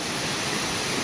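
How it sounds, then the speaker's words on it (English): A mountain creek on the High Sierra Trail rushes steadily and close, a dense, constant wash of flowing water with no voices. "Creeks coming down here and on the other side, and this is literally the trail."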